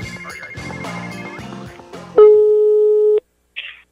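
A telephone line tone on a prank call sounds as one long, loud, steady beep after a busy stretch of music and voices, then cuts off, followed by a short burst of hiss.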